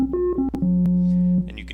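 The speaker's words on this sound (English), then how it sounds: "you can hear a nice sine wave as a result, and it's all, it's following the pitch pretty nicely" A synthesizer filter cranked into self-oscillation gives off a pure sine-like tone that steps between a few pitches, holding one long low note before ending in short bursts.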